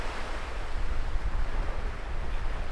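Ocean surf rolls onto the beach at Rapid Bay, South Australia, a continuous rumbling wash with wind buffeting the microphone.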